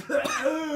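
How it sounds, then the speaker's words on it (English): A Final Fantasy XVI character gives a single short, harsh cough, over in under a second. "you cough up blood."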